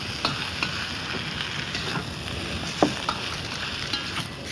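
A Thai stir fry sizzles in a pan, making a continuous crackling hiss with scattered soft pops and one brief sharper clink from a utensil partway through.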